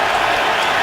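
Broadband roar of a football stadium crowd at a Patriots versus Colts NFL game, a steady loud wash of cheering and applause with no break through the short moment.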